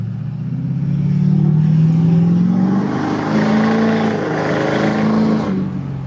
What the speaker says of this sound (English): I ain't got no traction. Ooh, just spinning wheels